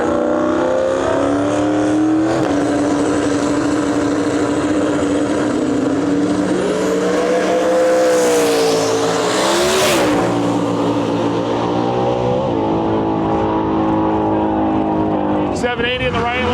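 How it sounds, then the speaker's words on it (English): A pair of Ford Mustang race cars, including a twin-turbo 2000 hp build, idle and rev loudly on a drag strip, engines droning steadily with rising and falling pitch while a commentator talks over them. "we got a pair of Mustangs pulling up here."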